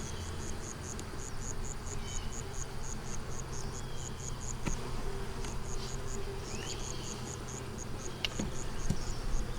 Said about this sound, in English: my bees try to attack me more